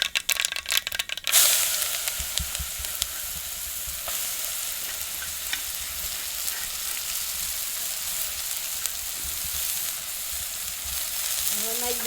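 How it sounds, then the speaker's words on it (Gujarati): Chopped papaya goes into a pan of hot oil with mustard seeds and cumin: a brief burst of rattling and crackle, then a loud, steady sizzle with occasional pops that carries on to the end. "અને હવે નાખી દઈએ આપણે આ પોપૈયો."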